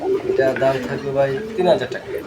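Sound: pigeons cooing

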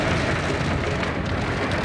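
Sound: heavy rain on a car while driving

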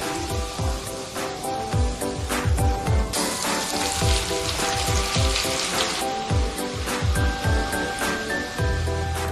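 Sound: hot scallion oil poured onto chili powder and garlic, sizzling

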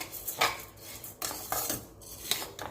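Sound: premix roasting while stirred in a pan

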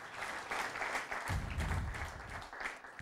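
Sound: audience applause at political rally

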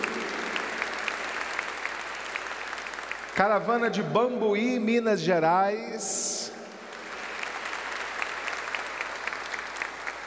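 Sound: congregation applause

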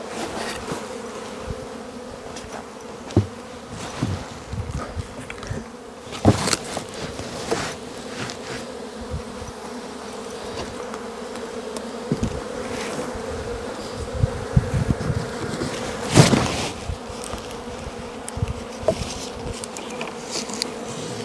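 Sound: honey bees buzzing

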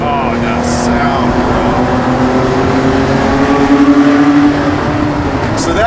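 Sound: Porsche 964 engine revving

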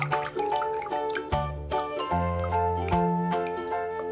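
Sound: water dripping from orchid pot lifted out of water

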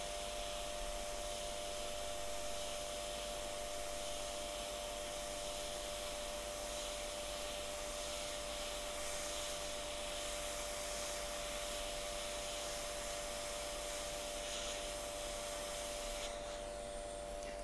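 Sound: hot air heating chip pins to desolder controller chip

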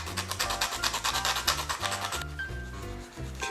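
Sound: sanding down rough edges of leather cover

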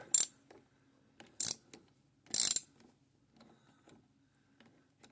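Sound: knocking into the camera stand

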